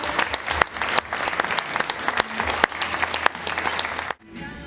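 An audience at an international guitar festival concert in Castrocielo, Italy, claps in a lively burst with crisp individual handclaps. The applause runs for about four seconds, then drops away abruptly.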